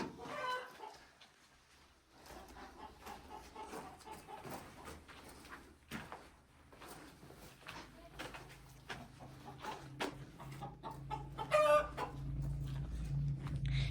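Chickens in a backyard coop cluck and call intermittently at a moderate distance, with a rooster crowing once near the end, over low, steady outdoor background noise and scattered knocks.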